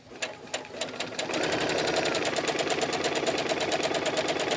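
A sewing machine stitches a child's vest, starting with a few slow separate needle strokes that quickly speed into a fast, even, rattling run, close and loud.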